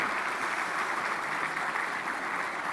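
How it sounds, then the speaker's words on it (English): Steady applause from a crowd, a dense even patter of clapping hands that holds at the same level throughout, with no voices. "Give yourselves a round of applause"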